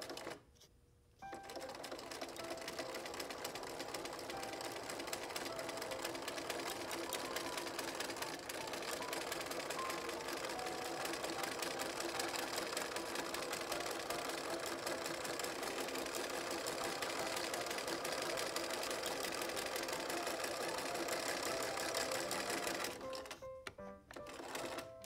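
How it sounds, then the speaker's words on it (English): Sewing machine free-motion stitching a spiderweb design on Halloween dinner napkins, a steady, continuous whirring hum running loud and unbroken for over twenty seconds, starting and stopping abruptly. "then you're going to just free motion stitch this"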